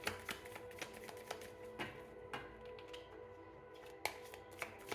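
Cards being shuffled close by, a series of crisp riffling snaps and taps at an uneven rhythm against quiet background.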